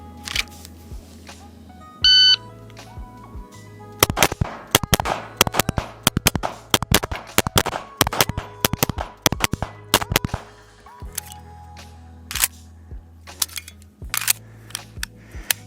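Pistol shots ring out at a carry optics competitive shooting practice: rapid sharp cracks in quick strings and bursts, loud and close, with a beep before the first string and pauses between groups.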